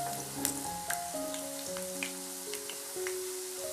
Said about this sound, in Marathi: आपण याला पलटून घेऊ म्हणजे खालची बाजू पण चांगली तेलामध्ये तळून घेऊ